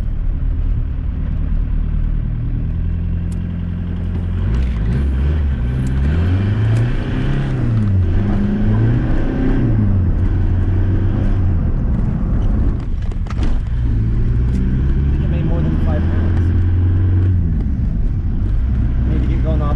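A diesel-swapped Mk2 Volkswagen Jetta TDI with boost drives along, its loud engine droning and rising and falling as it revs through gears from inside the cabin, while people talk over the noise.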